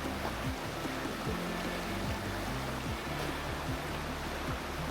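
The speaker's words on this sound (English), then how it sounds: "Look at the waterfall." A large West African waterfall rushes continuously, giving a dense, steady roar of falling water heard close and loud throughout, with low rumbling underneath.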